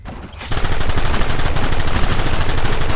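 Sustained rapid gunfire in the Red Dead Redemption video game, a dense, loud volley of overlapping shots that erupts after a brief quiet moment and continues without pause.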